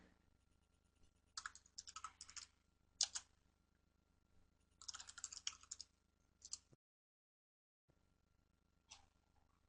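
Computer keyboard typing in MATLAB, quiet bursts of rapid key clicks separated by pauses, with one stretch of near silence before a final short burst.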